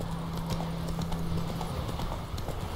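Geralt's horse Roach trotting in The Witcher 3, a continuous rhythmic clip-clop of hooves with steady game ambience, close and even throughout.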